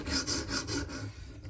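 Sharpening strokes across a coarse 140 grit stone give a close, repeated rasping scrape in a steady back-and-forth rhythm of about four strokes, fading toward the end.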